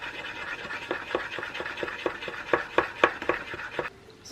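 A spoon stirs a sticky mixture of honey or agave in a bowl, giving a series of light scraping and clicking strokes that grow more pronounced before stopping.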